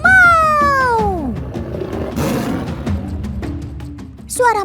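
A tiger roar, set beside a lion's for comparison, starts loud with a long falling growl, then breaks into rough, breathy grumbling that fades off before a short rasping snarl bursts up again at the end.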